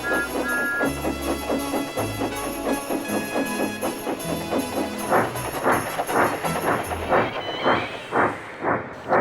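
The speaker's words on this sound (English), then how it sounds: "he was chuffing down the line with Annie and Clarabelle with his first afternoon train" A steam engine in Trainz chuffs down the line pulling two coaches in the snow, giving a rapid rhythmic stream of chuffs over low rumbling, the beats growing stronger and more distinct toward the end.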